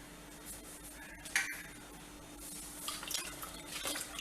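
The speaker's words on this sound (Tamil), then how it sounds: "மாவை கட்டி இல்லாமல் நல்லா கரைச்சிக்குவோம்." Soft scraping and light clinks of a utensil stirring rice flour batter in a bowl, a steady low swishing with a brief sharper knock partway through.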